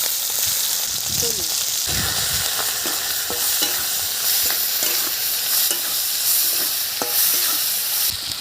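Prawns with turmeric fry in oil in a karai, a constant close sizzle broken by repeated scraping and clacking strokes of a stirring spatula throughout.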